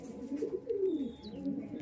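Green Madras pigeons, an old Kolkata breed, give soft low cooing phrases close by, a few rolling coos in a quiet room with faint background chirps.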